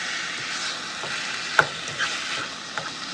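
Taco meat frying and browning in a pan on medium-high heat gives a steady sizzle, with a few soft scrapes and clicks from stirring, close up, with no talking.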